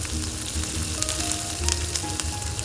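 Green chillies sizzle and fry steadily in hot sesame oil, a close, continuous crackling hiss with small spits and pops throughout and no voices.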